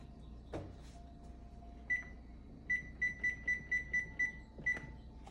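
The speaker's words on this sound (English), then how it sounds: "now I'm gonna set my timer for 8 minutes" Kitchen timer being set for baking snickerdoodle cookies, giving a few isolated beeps followed by a quick run of about seven evenly spaced short beeps, moderately loud in a quiet kitchen.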